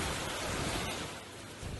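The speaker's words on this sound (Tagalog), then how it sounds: "Magkahalong ulan at hangin naman ang nanalasa sa West Bengal State sa India" Heavy rain and wind lash West Bengal, India during a storm, a dense, steady broadband roar of downpour and gusts filling the short stretch at moderate level with no voices.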